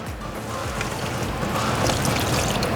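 Water splashes and pours steadily over a pickup truck bed product at an automotive product launch, a continuous rushing wash that stays loud and close throughout, with no talk.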